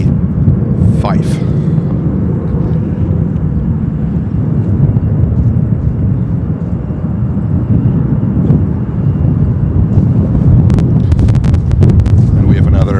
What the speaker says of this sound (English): a 757-300 fighting the wind